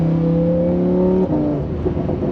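A Lamborghini sports car pulls hard with rising engine tones, breaking off at a quick upshift and climbing again, loud and close throughout.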